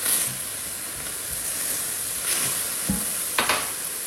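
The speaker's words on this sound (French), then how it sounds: "dans mon jus de cuisson, je viens rajouter mon oignon ou mes échalotes. Toujours à feu vif." Onions or shallots sizzle steadily in beef cooking juices over high heat, a constant close hiss. A few scrapes and stirring clinks from the pan break through it, and there is no talking.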